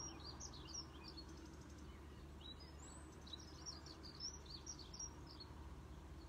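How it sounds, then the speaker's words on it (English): Outdoor birdsong with repeated chirps and short trills, soft and fairly distant over a constant low rumble, no voices present. "And just tuning in here now to the sounds of the birds."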